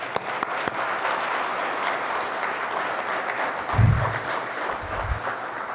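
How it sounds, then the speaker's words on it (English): An audience at a fire department recruit graduation ceremony applauding the new firefighters, a steady wash of clapping from a large crowd, moderately distant, with a couple of low thumps near the end. "let's all join in giving the graduating recruits our first round of applause"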